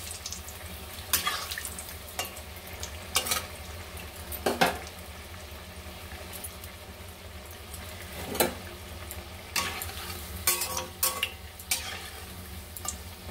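Potato pakoras frying in oil in a home kitchen, a quiet, steady sizzle with occasional sharper crackles and clinks from stirring or moving pieces in the pan.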